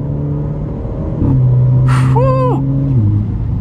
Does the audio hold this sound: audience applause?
no